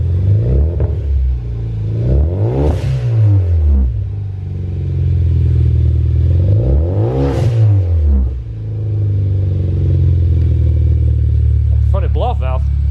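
A Kia Forte fitted with a custom 3-inch dual stainless steel exhaust idles with a deep rumble, then gives two strong revs, loud and close. A brief voice is heard near the end.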